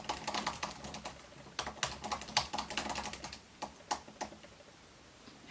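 Quick, light key presses on a 2016 MacBook Pro laptop keyboard with shallow keys, a steady clicking run with brief pauses, close and clear with no talk.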